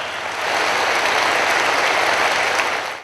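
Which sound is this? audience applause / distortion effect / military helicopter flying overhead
audience applause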